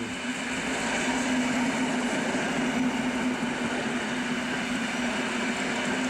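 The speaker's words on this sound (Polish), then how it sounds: "Przejazd pociągu służbowego EN 57 21" An EN57 electric multiple unit service train passes by as a steady, loud rumble with a sustained mechanical hum and rolling wheel noise, heard alone throughout.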